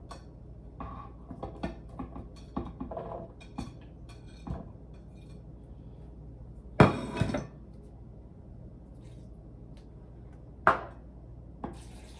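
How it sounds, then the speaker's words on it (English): Cilantro cashew dressing ingredients dumped into a blender for an oil-free dressing, heard as scattered knocks, clinks and rustles with one loud clattering burst midway and another sharp hit near the end. "I simply take everything and I dump it into the blender"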